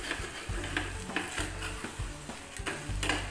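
Daliya with jaggery stir-fried in a pan, a rhythmic series of close spoon scrapes against the pan roughly every half second over a low frying sizzle, no voices.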